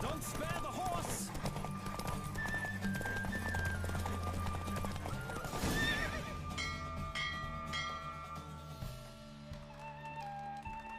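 Horse race in The Witcher 3: a galloping horse's rapid hoofbeats drive steadily under loud neighs and whinnies, with crowd noise, voices and a bell-like ringing mixed in before the pace eases near the end.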